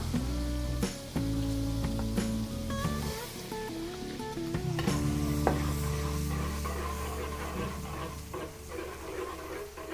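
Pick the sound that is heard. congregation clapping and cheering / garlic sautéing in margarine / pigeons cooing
garlic sautéing in margarine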